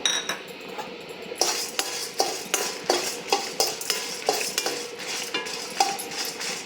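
Urad dal roasting in a pan for onion chutney, stirred with a metal spoon that scrapes and clinks against the pan in an irregular rhythm, close and clear over a quiet sizzle.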